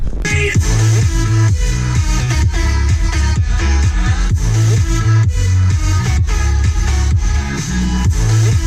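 A 2019 Honda Accord 2.0T Touring's car stereo plays loud, bass-heavy music with a thumping low-end beat that fills the cabin steadily throughout.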